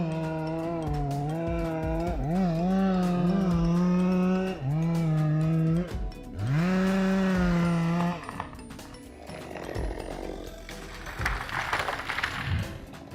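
A compact chainsaw engine drones loudly with rising and falling pitch as it revs, easing off between cuts through old oak trees, with rougher cutting noise toward the end.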